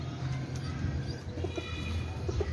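A pair of Teddy breed pigeons coo softly and repeatedly at close range, with low murmuring calls over a steady background hum.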